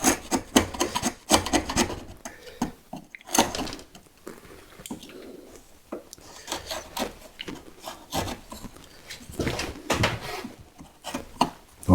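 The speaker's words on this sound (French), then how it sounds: "Et je vais remonter avec mon ciseau." A wood chisel pares away wood while cutting a half-lap joint, giving close, repeated scraping and rasping strokes of uneven length with short pauses between them.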